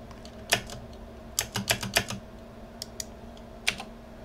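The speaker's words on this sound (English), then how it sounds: "click P on the keyboard." Computer keyboard keys clicked on a desk, a single sharp tap followed by a quick burst of several clacks and a few scattered later presses, close and alone.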